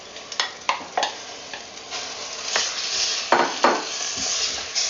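Lamb caldereta with coconut milk, carrot and tomato stirred in a pot: a spoon scrapes and knocks against the sides in irregular bursts over a steady low sizzle, close and alone.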